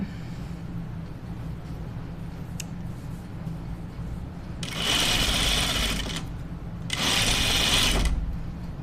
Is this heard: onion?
no